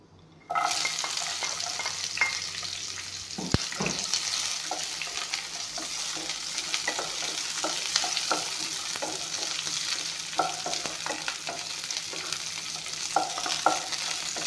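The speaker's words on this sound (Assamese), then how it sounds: "এইখিনি দি দিম, পিঁয়াজ, জলকীয়া, নহৰু, আদাখিনি অলপমান ভাজি ল'ম।" Onion, chili, garlic and ginger fry in a pan with a steady, loud sizzle, broken by repeated clicks and scrapes of stirring throughout.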